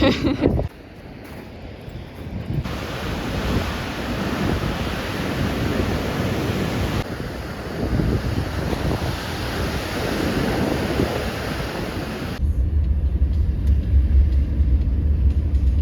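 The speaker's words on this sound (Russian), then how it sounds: "Вот это волны." Ocean surf roars continuously with steady wind gusting against the microphone, loud and unbroken throughout.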